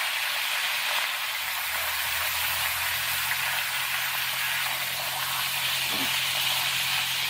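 Pork chops, usually a batch of six with a seventh here, sizzle steadily in a hot pan, a continuous broad hiss with no pause.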